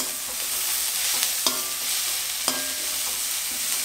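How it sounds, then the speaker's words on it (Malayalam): Carrot, capsicum and cauliflower stir-fry in a pan for desi-style Chinese noodles, a continuous hiss of frying with a few sharp spatula knocks and scrapes, close and without talk. "ഇതും നല്ലപോലെ വഴറ്റണം"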